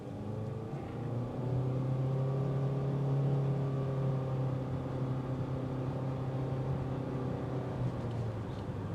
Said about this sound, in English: And you'll hear that engine all the way up to 50